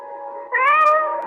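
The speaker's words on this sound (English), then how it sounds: "How many cats are there here sitting in the dark?" A large cat gives a single drawn-out meow that rises partway through, close and clear, part of a dramatized radio scene about a dozen big cats sitting in the dark.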